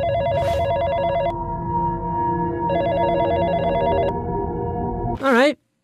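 A telephone rings inside a horror video game set in Freddy's Pizzeria: two long electronic trilling rings separated by a short gap, loud and close over a low background rumble, ending in a brief warbling sound.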